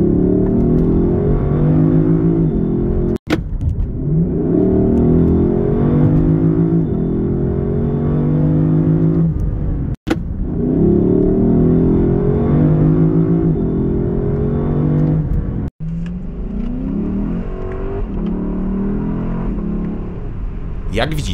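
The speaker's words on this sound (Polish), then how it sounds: "auto z każdych obrotów i w każdym trybie zbiera się jak wściekłe, cudownie przy tym grzmiąc" A Lexus LC 500 Convertible (2023) V8 engine roars and climbs in pitch as it accelerates hard, with brief drops at each gear change, loud and close throughout.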